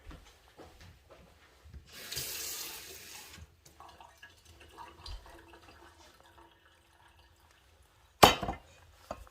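A brief burst of running tap water splashes for about a second, then quieter clinks and kitchen movement follow, ending with a sharp clatter.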